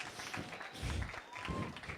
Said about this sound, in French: Si vous voulez bien venir tous, mesdames et messieurs, sous vos applaudissements